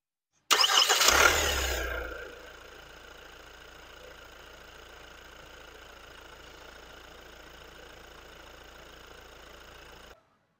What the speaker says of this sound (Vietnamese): em sẽ test chế độ đề máy từ xa trên Kia Sportage cho quý anh chị cùng xem